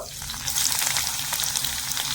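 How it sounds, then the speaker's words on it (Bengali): Finely chopped onion hits hot oil and fries in a loud, close, unbroken crackling sizzle that swells after the first half second, with light stirring; no talking. "পেঁয়াজ কুচিটা তেলের মধ্যে দিয়ে দেব"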